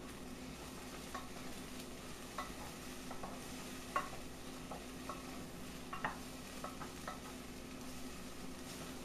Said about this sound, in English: just stir it around and keep stirring it